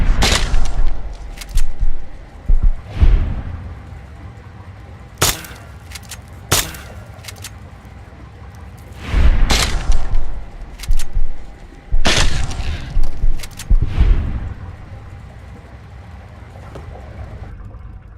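BB gun firing at a rad roach in the video game Fallout, with a handful of sharp, separate shots and thuds scattered over a rumbling, booming game background.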